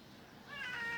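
A hungry street cat on a wall gives a single short, clear meow that rises in the second half, fairly close against faint outdoor background noise.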